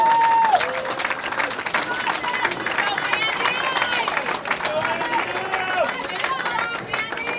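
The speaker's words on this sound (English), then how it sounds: "Let's send them off with a nice round of applause to finish the day." Spectators at an NCAA college bowling tournament, the Kutztown Invitational, give a round of applause. The steady clapping mixes with crowd chatter and a voice over a loudspeaker, with a few high tones cutting through.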